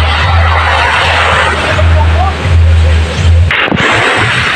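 A small outboard-style engine on a wooden fishing boat chugs steadily at close range, a loud continuous low drone that cuts out near the end.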